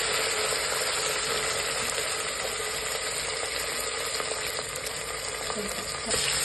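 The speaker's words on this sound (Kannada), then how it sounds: "ಪಲಾವ್ಗೆ ಒಗ್ಗರಣೆ ಮಾಡ್ಕೊಂಡಿದ್ದೀವಿ" A tempering of onion, bay leaves, cinnamon, cloves, fennel and fenugreek for homestyle country-chicken pulao fries in hot oil with a loud, steady sizzle, close by and continuous. Faint stirring scrapes come through, and nobody speaks.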